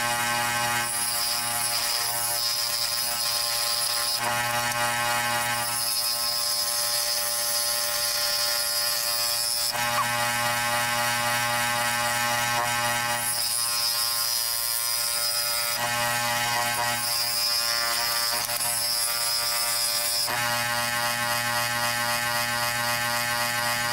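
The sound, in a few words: saw trimming a wooden knife handle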